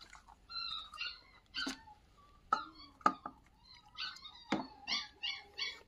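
Abandoned puppies whimpering close by, a string of high thin whines and short yips in irregular bursts, faint and alone.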